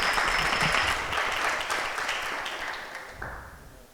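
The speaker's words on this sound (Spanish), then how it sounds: "Un aplauso." Applause from a church youth gathering audience, a loud burst of clapping that gradually tapers off over a few seconds, with a faint voice near the end.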